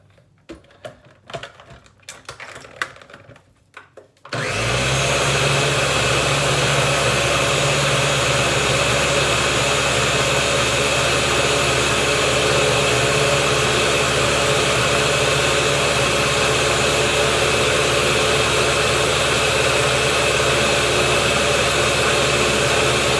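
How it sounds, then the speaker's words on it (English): A blender runs steadily on a low-carb sandwich mixture with an extra quarter cup of grated cheese, a loud continuous whir that starts abruptly after a few seconds of faint clatter and holds unbroken to the end. "I'm gonna add 1/4 cup more of grated cheese in this recipe, okay? And we're gonna blend again"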